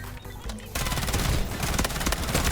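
Dense rapid-fire gunfire in the video game Delta Force, a loud continuous automatic burst after a brief quieter lead-in, close and sustained throughout.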